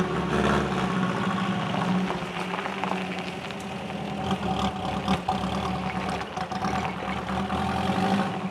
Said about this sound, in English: Got the old flivver fired up here, let her warm up.